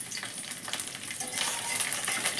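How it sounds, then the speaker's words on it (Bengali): Chopped garlic sizzles steadily in hot oil in a kadai, a close, continuous frying hiss with light stirring scrapes that grow slightly busier toward the end. "এবার আমি এর মধ্যে দেব কিছু রসুন কুচি।"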